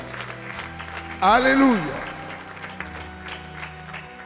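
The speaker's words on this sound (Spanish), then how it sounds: "Dale un aplauso al Señor con todo tu corazón." A church congregation claps steadily throughout, with a voice calling out and a brief sung phrase rising over the applause partway through.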